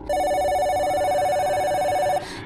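A telephone bell rings continuously in a steady electronic trill for just over two seconds, close and clear, then stops abruptly.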